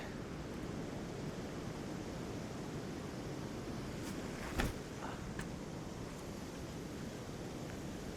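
Strong wind on a disc golf course rumbles and roars steadily into the microphone, a dense continuous buffeting with one brief sharper gust-like burst, no talking.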